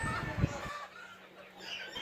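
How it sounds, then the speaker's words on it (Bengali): Chickens kept for meat on a farm give a short burst of clucking close by, fading into a low murmur of background noise. "আমরা মাংসের জন্য যে মুরগিগুলো করি এই পাশে সেই মুরগিগুলো আমরা রাখি"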